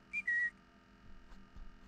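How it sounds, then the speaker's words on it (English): Inside a horror game, a player gives two short, clear whistled notes, the second held a little longer, close and fairly soft, followed by faint background noise. "Can you whistle again?"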